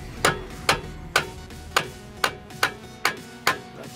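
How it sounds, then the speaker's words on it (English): Eight sharp metallic hammer strikes drive an extractor onto a broken lug bolt on a Mercedes, at a steady, slightly quickening pace, each ringing briefly before the next blow, close by with no talking. "Once you put it in, we're going to hammer it."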